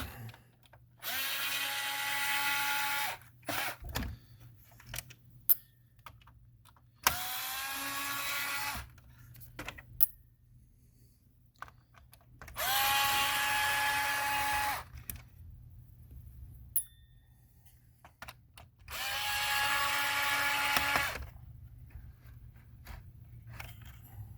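A power screwdriver whirs in four separate bursts of a few seconds each, backing screws out of an iRobot S9 robot vacuum bumper, with quiet handling clicks and rustles in the pauses between.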